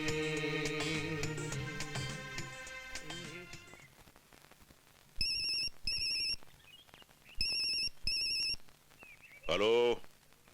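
A telephone rings in a Hindi action film scene. Electronic ring bursts sound in pairs with pauses between them, after fading music, and end with a short rising electronic tone.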